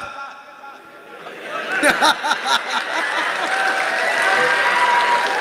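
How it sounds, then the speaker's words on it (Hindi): Audience clapping and laughter at a Hindi stand-up comedy show: a dense, steady wash of applause with a short burst of rhythmic claps, swelling gradually under crowd chatter and chuckles. "ताली तो आप लोग ऐसे बजा रहे जैसे मैं बारात आए थे"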